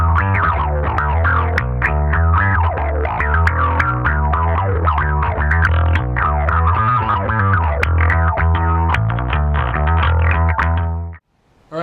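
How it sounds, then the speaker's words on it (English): An Epiphone Thunderbird Classic PRO bass guitar plays a funky riff through an envelope filter, each note with a squelchy, wah-like sweep, then the sound cuts off abruptly. "First one I'm going to do is going to be an envelope filter."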